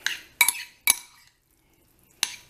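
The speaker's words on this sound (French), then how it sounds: "Vous prenez donc votre cuillère et vous touillez." A spoon clinks against a pan while stirring the sauce for a salmon lasagne, giving a few bright metallic taps separated by short silences.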